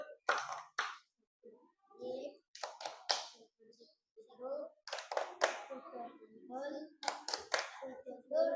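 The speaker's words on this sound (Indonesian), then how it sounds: "Tepuk tangan untuk kelompoknya Mbak Dina, Resti dan Vina." Short bursts of clapping from a classroom of students applauding a small group, coming in several separate rounds with a teacher and children talking between them.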